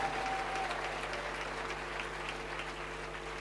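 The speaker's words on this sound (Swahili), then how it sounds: "Come on, give mama a better hand clap." A large crowd at a gospel crusade in Nyayo Stadium claps its hands in steady, sustained applause that sounds distant and fairly soft.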